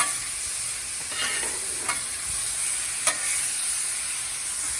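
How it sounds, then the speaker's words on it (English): Apricots caramelizing with brown sugar and butter on a flat griddle give a bright, steady sizzle close up, with a few sharp spatula scrapes and taps over it and no voices. "we're going to caramelize the apricots with a little brown sugar."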